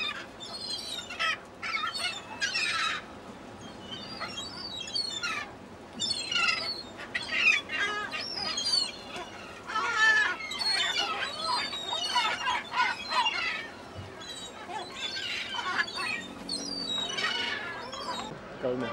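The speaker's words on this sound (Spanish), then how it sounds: "Vemos cómo las gaviotas comen todo este pescado que han tirado." Seagulls crowd around discarded fish at Essaouira harbour in Morocco, giving repeated squawks and calls, some close and loud, over steady harbour background noise through the whole scene.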